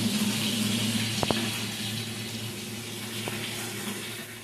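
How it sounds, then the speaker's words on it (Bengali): Water runs steadily from a bathroom tap as a bath is drawn, a continuous close hiss and gurgle with a couple of faint knocks partway through. "ওয়াশরুমে চলে আসলাম এখন স্নান করব"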